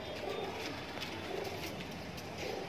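Border high flyer pigeons cooing at a sale, a soft, low, repeated throaty coo against steady background noise.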